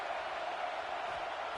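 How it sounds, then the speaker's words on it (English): A stadium crowd at a Tennessee vs Notre Dame football game roars behind the defense on third down, a faint, steady, distant wash of cheering. "Decibels rising as the crowd gets behind this defense on third down"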